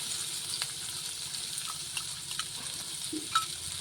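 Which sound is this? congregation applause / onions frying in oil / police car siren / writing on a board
onions frying in oil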